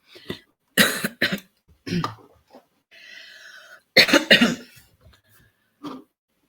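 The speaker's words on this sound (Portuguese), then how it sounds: "tô com uma tosse" Several harsh coughs burst out in quick clusters with short gaps, close to the mic, followed by a throat clearing and brief pauses.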